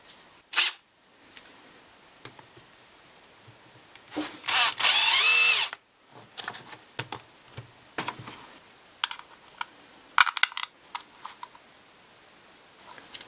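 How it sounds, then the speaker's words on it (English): A power drill countersinks holes in a camera housing, whirring in a couple of short bursts and one sustained loud spin, with handling clicks and taps between them. "we need to countersink these holes"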